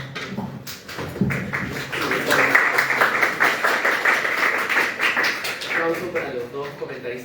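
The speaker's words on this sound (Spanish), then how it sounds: "Aplauso para los dos comentaristas que acaban de participar." Audience applause for two commentators at a student sociology colloquium panel, a sustained wash of clapping from a crowd at steady loudness for several seconds, with a voice speaking over it near the start.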